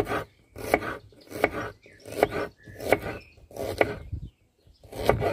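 Knife finely chopping onions on a board while cooking a Moroccan chicken tajine with lemon and olives: seven or so firm, evenly spaced chops, each a sharp thud with a short scrape.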